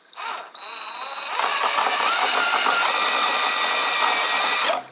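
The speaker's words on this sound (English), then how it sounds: "you just put your whisk in and you just start stirring" A power drill fitted with a whisk attachment stirs a wine kit to degas it. The motor gives a loud, steady whine that starts, stops briefly, then runs continuously and slightly louder, with churning liquid underneath.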